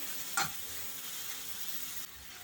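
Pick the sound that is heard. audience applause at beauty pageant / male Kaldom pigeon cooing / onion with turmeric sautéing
onion with turmeric sautéing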